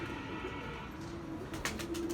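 A pigeon coos faintly in a soft low repeated call, over a steady background hum with a few sharp clicks near the end.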